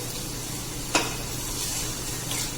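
Garlic, onion, tomato and ginger sauté in a hot pan, producing a steady close sizzle with one sharp utensil clink partway through and soft stirring scrapes, and no one talking.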